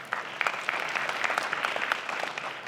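A seminar audience gives a short burst of steady applause for a speaker, many hands clapping together evenly at a moderate distance.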